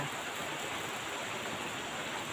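Rain falling steadily and evenly, a dense continuous hiss with no pauses or other sounds.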